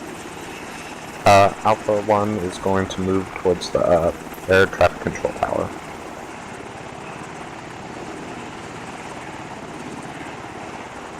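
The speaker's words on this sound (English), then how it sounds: "Helicopter recon, baby." A steady video game helicopter drone runs throughout, with someone speaking over it briefly before the rotor noise carries on alone.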